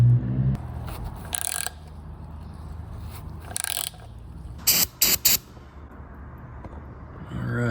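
Hand tap cutting new threads into a stripped drain plug hole through a guide sleeve, giving repeated close ratcheting, grinding turns with short sharp bursts of clicking between quieter stretches.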